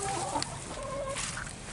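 Chickens cluck softly against a steady wash of rain or outdoor noise, a few faint calls rising over the constant background.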